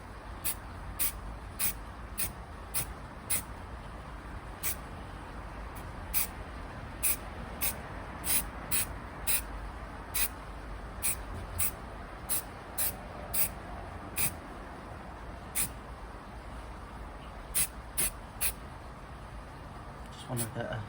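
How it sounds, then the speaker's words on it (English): Short repeated bursts of a rattle-can aerosol spraying high-build primer onto a Vauxhall Corsa B barn find, evenly spaced hisses close to the microphone over a quiet garage background. "Rattle can spray job this"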